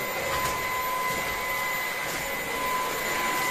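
Ultenic vacuum cleaner switched to maximum power, a loud steady close-up whine and rushing airflow with a high tonal hum, continuous without talking.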